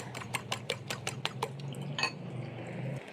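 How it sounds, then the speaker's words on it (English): A whisk clinks rapidly against a bowl as eggs with salt and pepper are beaten, a quick run of sharp metallic taps that slows and gives way to a softer swish near the end. "Whisk the eggs."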